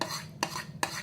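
Utensil scraping a bowl while melted chocolate is stirred into butter for brownie batter, a soft continuous rubbing broken by two sharp scrapes, close and quiet with no talk.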